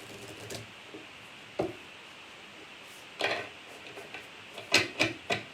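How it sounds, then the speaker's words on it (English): A deck of Kali oracle cards being shuffled by hand, a few short dry riffling and tapping bursts separated by quiet pauses, close and fairly soft. "give them a shuffle and see which Kali card comes up first"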